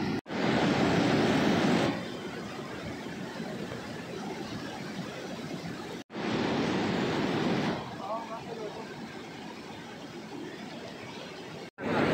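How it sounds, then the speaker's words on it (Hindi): Rushing of the fast-flowing glacial Bhagirathi river near Gaumukh, fed by melting ice, a loud continuous roar in bursts, cut by short breaks and mixed with wind buffeting the microphone. "और पानी का फ्लो आप देख ही सकते हो कितना तेज है।"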